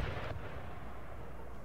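Carcass shot artillery fire in the strategy game Empire Total War, a heavy booming blast with a dense rumbling tail that lingers throughout, loud and with no talking.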